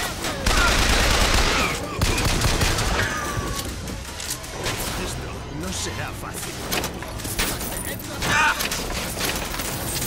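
Bursts of rapid gunfire in the video game Bioshock Infinite crackle in close succession, loud at first then scattered, with a voice speaking over the shooting.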